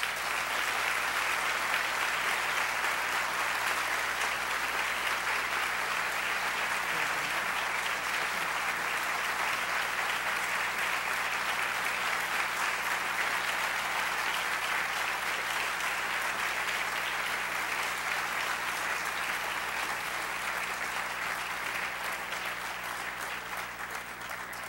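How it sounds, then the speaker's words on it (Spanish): Audience applause at a commercial engineering graduation ceremony, a dense, even wash of clapping that holds steady for about twenty-five seconds with a faint low hum beneath and no voices. "quiero pedir un gran aplauso para Karen Daniela Cerda Zapata."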